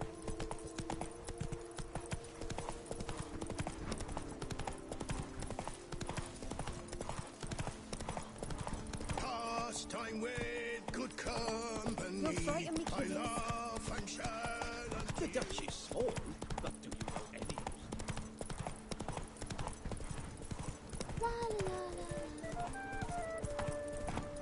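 Steady rapid hoofbeats from the horse Roach galloping in The Witcher 3, a continuous clip-clop rhythm running the whole time beneath game music and occasional voices.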